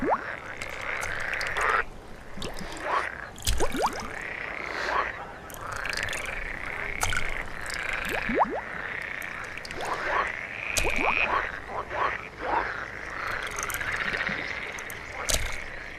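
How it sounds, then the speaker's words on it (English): Frogs croak in an alpine pond, a dense chorus of repeated rasping calls from several animals overlapping at varying distances, with occasional sharp splashes and knocks throughout. "where the air is filled with croaks and splashes"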